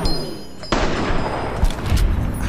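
Gunfire in the video game Fallout New Vegas, modded: a sudden loud burst of rapid shots with booming thuds that keep rattling on, close and dense.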